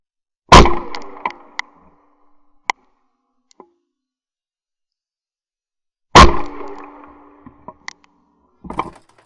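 A Rizzini BR 550 round-body side-by-side 12-gauge shotgun fires at clays at Eaton Hall: two loud, sharp reports several seconds apart, each with a short ringing decay, with small clicks and knocks between them.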